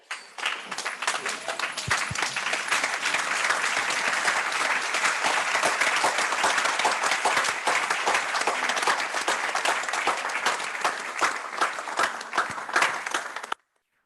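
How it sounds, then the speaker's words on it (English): A lecture audience gives a standing round of applause for the lecturer at a professor's inaugural lecture: dense, steady clapping from a large crowd that holds at full strength for about fourteen seconds, then stops abruptly. "give our lecturer a big round of applause"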